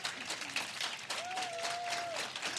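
Audience applause for faculty members standing at an Ohio student panel event, steady broadband clapping throughout with a voice or whistle-like tone over the middle.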